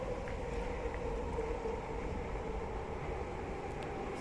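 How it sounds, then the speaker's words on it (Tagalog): A train arriving at a station, a continuous low rumble with a faint tonal whine, moderately distant and steady, with no talk over it. "Parating na guys ang tren."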